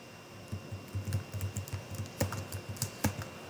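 Quick, uneven keystrokes on a computer keyboard as a password is typed, close and fairly quiet, with a couple of sharper key presses standing out near the end.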